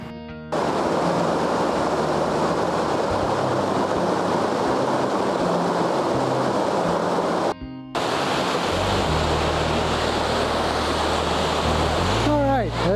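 A rushing river in summer, heard from a bridge above it, gives a loud, steady broadband roar of flowing water that continues without a break, apart from one brief dropout partway through.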